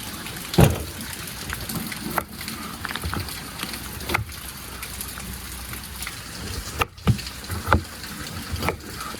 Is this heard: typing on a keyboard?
no